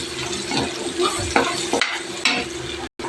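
Onion and pork cube sautéing in a hot pan for chayote, with a loud, continuous close sizzle broken by several sharp spatula scrapes and stirs, then a brief cutoff near the end.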